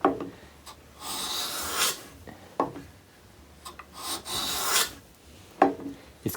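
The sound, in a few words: hand plane cutting wood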